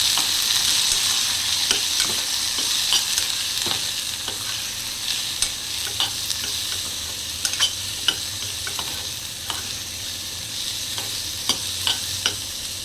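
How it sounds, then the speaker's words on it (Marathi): Cluster beans stir-fried in a pan, a steady close sizzle running throughout with frequent sharp clicks and scrapes of a spoon stirring the vegetable, no talking. "परतून घेऊया।"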